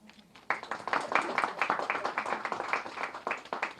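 An audience at an Indigo flight inauguration ceremony between Ayodhya and Ahmedabad breaks into steady applause, dense, sustained hand-clapping that starts abruptly and continues close and loud.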